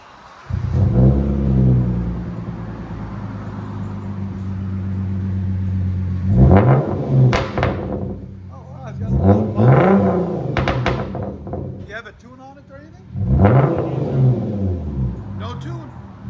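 A 2015 Hyundai Genesis Coupe with a 3.8L V6 and ISR cat-back exhaust idles, then revs hard in several loud, close bursts that rise and fall back to a rumbling idle.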